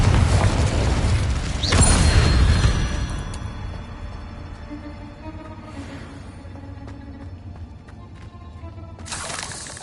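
Confringo blast spells go off in a Hogwarts video game, a heavy booming explosion with a rumbling tail, then quieter magical crackles and a second burst near the end.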